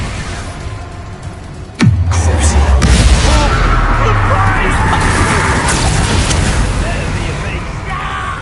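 An explosion spell in a wizarding video game bursts as a sudden deep boom with a falling rumble, followed by a loud, sustained roaring wash over several seconds.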